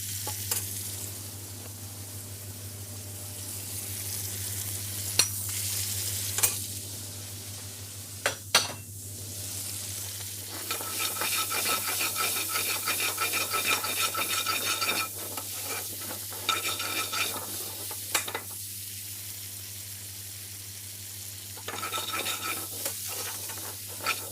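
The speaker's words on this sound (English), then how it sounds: "Once you've stirred the peppers with the onions and the oil, just mildly cooked" Peppers and onions frying in oil for chicken jalfrezi, a continuous close sizzle broken by repeated scraping stirs and occasional utensil clinks against the pan.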